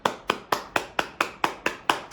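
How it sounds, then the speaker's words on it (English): Nine evenly spaced sharp claps in a steady rhythm, close and crisp, with no talking. "let's all give ourselves a hand clap."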